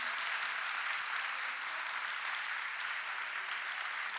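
A church congregation applauds during a Portuguese-language service, sustained dense clapping from a large crowd filling the room, loud and even throughout with no distinct voices on top.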